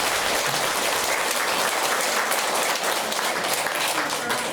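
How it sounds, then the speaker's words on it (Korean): Dense crowd applause at a Buddhist temple ceremony for Buddha's Birthday, loud and sustained, many hands clapping steadily from start to finish. "힘을 모아 큰 박수로 감사를 드립니다"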